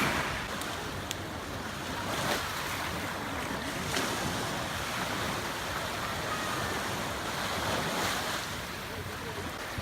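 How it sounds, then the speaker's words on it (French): Steady wash of calm ocean surf rolling onto a beach at Playa del Carmen, continuous and fairly loud, with wind noise buffeting the microphone throughout. "La mer, elle est calme, on peut entendre les bruits de vagues."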